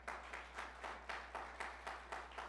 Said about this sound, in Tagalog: Pumalakpak po sa Lord.